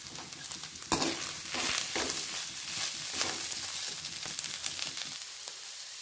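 Continuous crackling sizzle of beetroot frying in hot oil, close by, with occasional stirring scrapes and pops throughout, no voices.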